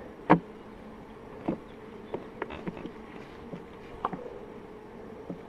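Honeybees hum steadily around an open hive set among lavender. The close, continuous drone carries a few sharper knocks and taps from handling the hive, and no one talks.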